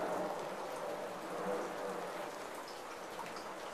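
Rain falls steadily outside a San Diego home during a stormy spell, a soft, even hiss of drops on outdoor surfaces that stays faint and constant throughout.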